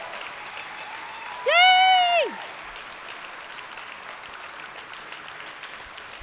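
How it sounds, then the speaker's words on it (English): Applause from the audience at a miniature painting convention awards ceremony, with one voice giving a sustained cheer near the start. The clapping is a continuous crowd wash that runs throughout at moderate loudness. "Round of applause for Greg."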